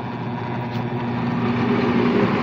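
A blender runs steadily while making a fresh mango shake, its continuous motor whir holding close and loud from start to finish and swelling slightly toward the end.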